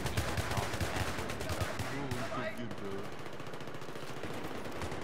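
Video game gunfire from Battlefield 3 rattles in rapid automatic bursts, loud and continuous throughout.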